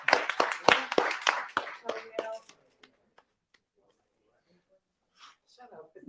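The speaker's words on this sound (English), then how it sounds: "So everybody give her a round of applause while she comes up." A studio audience claps for a model at a fashion-brand livestream launch: a dense, loud burst of applause that thins out within a couple of seconds. Quiet follows, then faint voices return.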